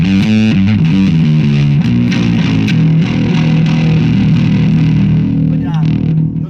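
A bass guitar played through a Big Chunky Cheese distortion pedal into a Fender Super Reverb-type tube amp, with gritty, sustained low notes changing pitch in a steady riff, loud and close.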